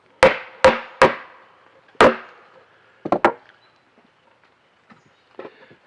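Hammer strikes on wood while building a beehive, four sharp ringing blows followed by a quick double hit and a few softer taps, close and isolated with no talking.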